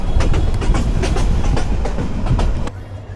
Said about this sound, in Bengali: আমাদের ট্রেন এসে পৌঁছাইলো কিশোরগঞ্জ স্টেশনে